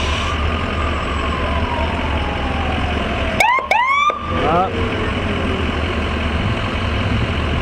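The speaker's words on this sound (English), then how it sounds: "She's got to blow her siren there." An emergency vehicle siren wails and sweeps downward over traffic rumble at a town parade, with a burst of sharp electronic yelps midway.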